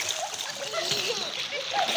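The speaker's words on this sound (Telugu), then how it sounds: "ఆ పిల్ల ఈత కొట్టాలని ట్రై చేస్తున్నారు" A child swimming in a pool in Guntur churns the water into repeated close splashes and sloshing, while people, including children, talk nearby.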